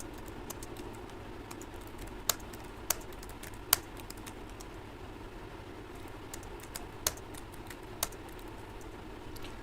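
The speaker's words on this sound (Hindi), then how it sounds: "अभी हमने यहाँ पे 4 लाइन टाइप कर ली है।" Someone types text on a computer keyboard in a quiet room, producing soft, irregular key taps with a few sharper, louder clicks scattered throughout.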